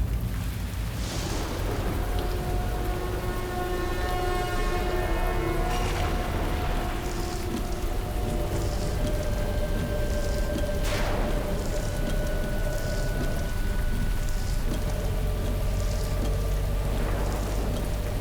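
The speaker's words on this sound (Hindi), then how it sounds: "कितनी जोर की बारिश हो रही है।" Heavy rain pours in a constant dense roar throughout, with ringing, bell-like tones and swells drifting over the downpour.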